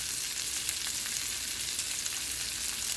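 Tomato sauce seasoned with black pepper frying in a pan, a dense, even sizzle with fine crackle holding steady and close for the whole stretch, no voices.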